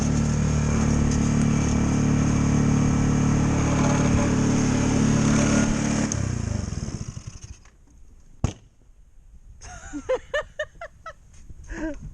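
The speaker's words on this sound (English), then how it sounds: "The last little backfire." A Yerf-Dog go-kart engine runs loudly and steadily, then cuts off and goes quiet, followed by a single sharp backfire pop and a few faint sputtering bursts as it dies down.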